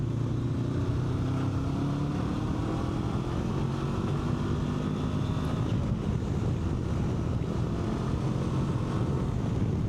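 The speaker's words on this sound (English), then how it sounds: "Let's see how we do with this smaller powertrain coming up this hill." A 2025 Honda NX500 500cc motorcycle climbs a hill, its engine a steady low drone rising slightly in pitch, heavily buried under constant rushing wind noise.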